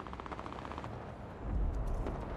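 Automatic gunfire in the video game Warzone comes as rapid bursts of shots, fairly faint and distant, thickening into a denser volley near the end.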